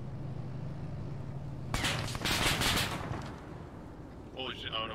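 Gunfire erupts in a Cold War era ARMA military mission: a rough, crackling volley of shots lasting about a second, fairly distant and subdued, followed by a brief voice.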